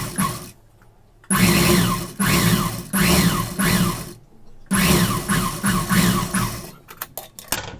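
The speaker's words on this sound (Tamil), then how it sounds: "இப்போ நான் வந்து பீஸ் வச்சு தைக்கிறேன்." A sewing machine stitches a blouse piece in fast bursts: three long runs of whirring stitching separated by brief pauses, close and loud, ending in a few short taps.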